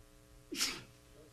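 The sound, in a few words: sneeze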